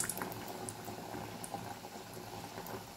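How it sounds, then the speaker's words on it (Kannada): Mangalore bun dough deep-frying in hot oil makes a continuous, even bubbling seethe with small frequent pops, fairly quiet and alone. "ಸೊ ಇವಾಗ ನಾನು ಬಿಡೋದು ಎಣ್ಣೆಯಲ್ಲಿ"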